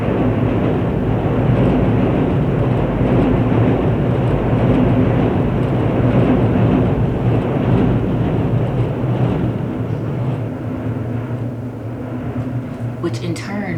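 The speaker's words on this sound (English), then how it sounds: "hold on, train's passing me" A loud, steady rumble of a passing train fills the scene, its roar gradually easing toward the end.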